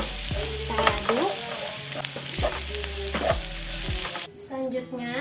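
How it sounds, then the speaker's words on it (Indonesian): Onions frying with chili oil in a pan sizzle steadily while a utensil stirs and scrapes in repeated strokes, close and fairly loud, then the sizzle drops suddenly near the end. "Kita aduk."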